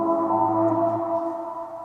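Chopped synth stems from an Ableton intro, a sustained pad layered with a pluck, play as a steady, smooth, close tone for about two seconds, with no voice.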